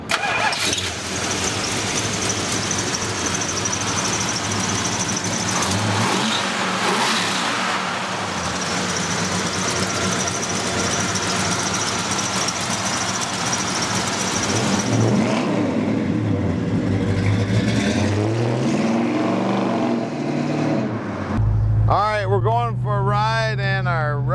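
A 1968 Plymouth Road Runner clone convertible's V8 engine and exhaust rumble and rev through a long stretch, with rising and falling throttle and a voice speaking over it near the end.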